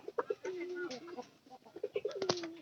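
A pigeon coos near the microphone in low, throaty repeated calls, with a few short bursts of sound and someone speaking faintly in the background at times.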